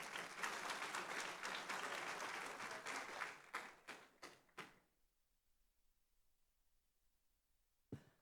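Applause from a seminar audience at a pension fund event, dense clapping for several seconds that thins into a few scattered claps before fading to near silence, with one last isolated clap near the end.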